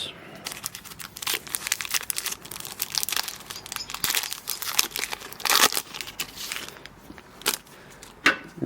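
A Pokémon Crown Zenith booster pack wrapper is torn open and crinkled by hand, producing a continuous close run of crackling foil rustles and sharp tearing bursts over several seconds, with faint voice in the background.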